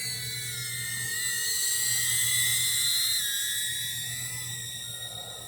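An Eachine Cvatar 120mm cinewhoop drone flies at a moderate distance, its propellers giving a continuous, loud high-pitched whine with a steady low hum beneath, swelling slightly and easing as it moves.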